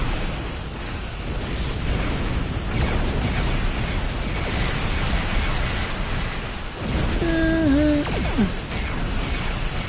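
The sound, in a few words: torpedo explosion in video game Star Trek Online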